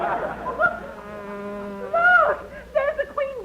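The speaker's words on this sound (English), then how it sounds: "There's the queen bee. She just flew out when you opened the door." A buzzing bee sound effect for a radio comedy drones in wavering bursts, rising and falling in pitch, loud and close, with a short pause in the middle.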